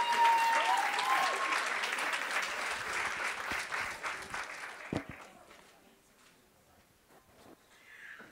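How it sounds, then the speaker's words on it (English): Audience applause at a pitch competition, dense clapping that starts loud, holds, then thins out and fades toward the end. "Another round of applause for Jane."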